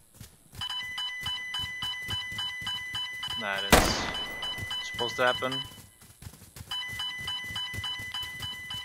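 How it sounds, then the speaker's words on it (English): An alarm sound effect from a Rise of Nations custom map mod rings in repeated electronic tones, broken by a loud burst partway through. Someone talks during it. "which is basically just an alarm"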